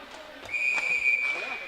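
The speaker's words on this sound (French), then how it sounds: "Et on siffle l'arrêt du jeu." A sharp, sustained referee whistle blast of about a second stopping play in an ice hockey match, cutting through arena crowd noise and faint commentary.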